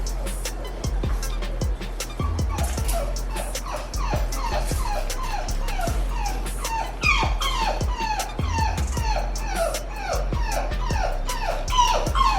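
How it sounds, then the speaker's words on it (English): A six-week-old black male Cane Corso puppy whines steadily for treats, giving a long run of close, high, repeated whimpers and yips over a low engine-like hum. "That's the black male that we just had out that you hear whining because he wants more treats."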